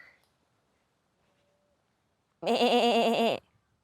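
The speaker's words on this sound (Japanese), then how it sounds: "ヤギがいる。" A goat on Kuroshima island gives one loud, clear bleat lasting about a second, with a wavering, strongly harmonic cry, after near silence.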